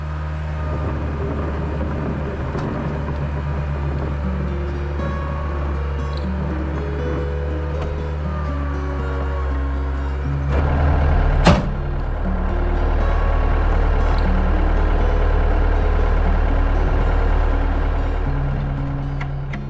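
A Bobcat 853H skid steer used for snow removal runs steadily with a continuous low diesel drone and mechanical rumble, swelling louder partway through with a brief sharp clank.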